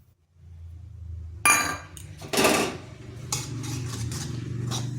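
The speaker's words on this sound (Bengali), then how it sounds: "ভালোভাবে তালের পাল্পের সঙ্গে মিশিয়ে নিচ্ছি" Semolina stirred into ripe palm fruit pulp in a pan for palm pitha, a utensil scraping and clinking against the metal with a few louder knocks, close and continuous, no talk.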